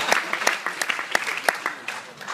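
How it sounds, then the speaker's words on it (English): Audience applause at a best man toast, a dense spread of claps with several sharper, louder hits, steady for a couple of seconds without talk. "Let's give him a round of applause for the guy."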